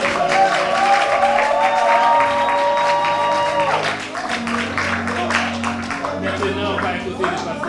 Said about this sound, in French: Applaudissez encore, s'il vous plaît.